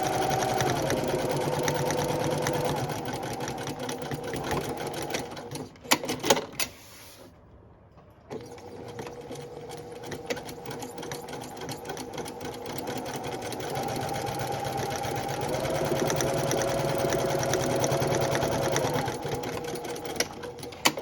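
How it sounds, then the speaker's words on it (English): A sewing machine top stitches the folded edge of a fabric pocket, running in a loud, steady whirring hum that breaks off briefly midway and then resumes for a long continuous stretch. "So we're gonna take it to the machine again and do a top stitch across the top folded edge."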